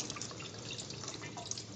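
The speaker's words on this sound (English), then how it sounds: "Water flows out of the test tube." Water flowing out of an opened test cock on a double check valve backflow assembly during testing, a steady faint trickling and dripping that runs throughout without any talk.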